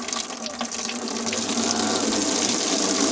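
Water gushes under strong pressure from a tap fed by a tube well in the La Victoria settlement of Huarmey, Peru: a steady, loud, close rushing splash that grows slightly fuller over three seconds.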